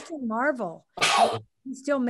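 A single loud, sharp sneeze bursts out between stretches of conversation, with a voice talking before and after it.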